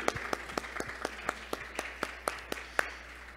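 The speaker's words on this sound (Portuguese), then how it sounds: "Mais uma salva de palmas à equipe inteira aí." An audience claps for the event team at a hybrid conference, a steady run of distinct, evenly spaced claps over faint room hum, with no voices.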